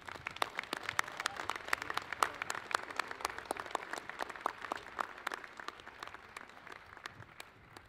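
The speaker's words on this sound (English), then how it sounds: "Please join me in applauding her and all of our dedicated faculty" Commencement audience applauds faculty at a university College of Humanities and Social Sciences ceremony, a steady spread of many hands clapping, fairly distant and even, with no talk over it.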